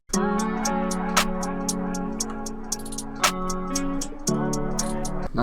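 A simple two-step hi-hat pattern plays inside a vibey guitar-based beat, with sustained chords and tonal layers underneath and crisp, regular ticks on top, loud and upfront with no voices.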